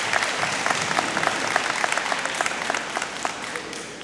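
Audience clapping for students at a GEO Next Generation High School graduation in Indianapolis, a steady, moderately loud patter of many hands with a few sharper claps standing out.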